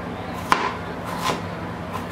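A knife cuts onion into very thin slices on a board for ceviche, with a couple of crisp chopping knocks close by and quiet gaps between them.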